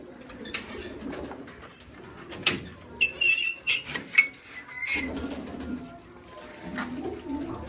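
Pigeons coo softly nearby, with a few louder bursts of wing flutter and bird calls midway.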